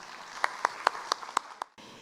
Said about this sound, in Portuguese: Vamos receber com uma salva de palmas a nossa colega Márcia Pracinos.